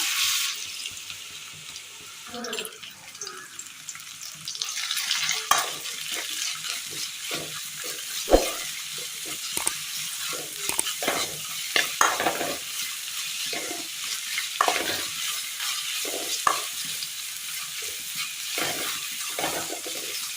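Chopped onions sautéing in oil in a kadai on the stove, with steady sizzling, scraping stirs and intermittent clinks of a utensil against the pan, close and moderately loud with no talking.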